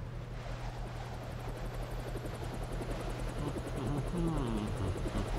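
A helicopter in the video game Deus Ex: Revision drones steadily with a low rotor thrum and a faint whine throughout, and a voice briefly comes through near the end.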